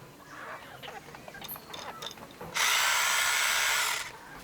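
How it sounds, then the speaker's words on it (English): A spider silk milking machine runs, first with faint clicking and ratcheting mechanical ticks, then with a steady, louder whirring drone that holds for over a second before cutting off. "This is my milking machine."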